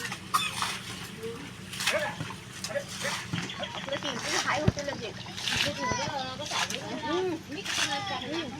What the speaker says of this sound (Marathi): हे बघा पाणी उडवताना